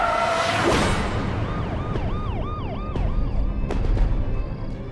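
Police car siren wails in repeated rising and falling sweeps over a loud, dense background rumble, fairly prominent throughout, with no speech.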